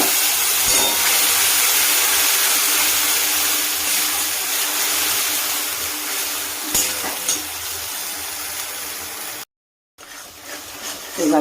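Ginger, garlic and green chilli paste sizzles and fries in ghee with a constant hissing crackle and occasional stirring scrapes, briefly cutting out before resuming.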